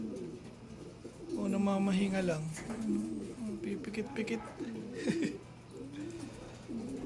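Racing pigeons coo in a loft, soft throaty calls sounding close and repeated beneath a man's ongoing speech.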